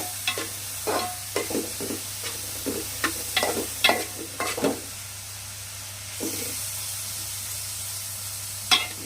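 Cut tomatoes tossed into a pan for a taro and egg curry, stirred and fried with a series of quick close scrapes over a low sizzle and hiss, busy at first then easing, one last scrape at the end, no talking.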